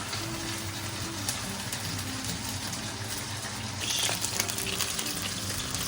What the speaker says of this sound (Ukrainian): Смажаться мої деруни